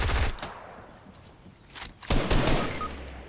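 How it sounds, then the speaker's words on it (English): Fortnite gunfire from an enemy shooting down off a rooftop, heard as several rapid, sharp bursts of shots, loud and close, separated by short gaps of quieter game ambience. "Shooting at me from this fucking roof."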